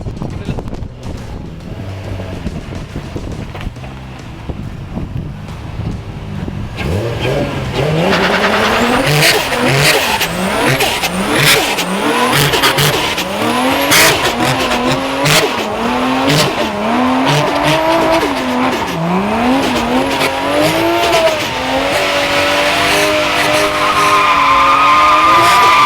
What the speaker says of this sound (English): this is not a burnout, this is just to make sure the traction control is off